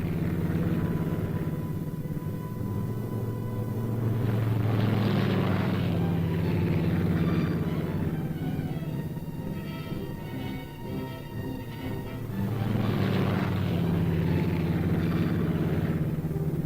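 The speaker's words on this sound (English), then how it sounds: "Mission accomplished, the planes headed back to their base at Thule." Propeller airplanes returning to their base at Thule drone in a steady, rumbling engine tone that swells and recedes, with no talking.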